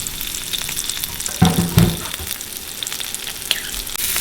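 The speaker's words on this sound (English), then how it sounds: "We're going to sear these a little bit, just like that" Whole doves searing in a hot pan outdoors, a continuous crackling sizzle with a louder burst of spitting as the birds are pressed down partway through.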